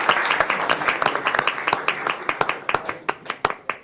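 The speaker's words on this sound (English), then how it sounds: "Let's give a round of applause for Sports Scout Troop" Dense applause from a council meeting audience honouring a scout troop, many hands clapping close together at first, then thinning out into fewer, sharper individual claps by the end.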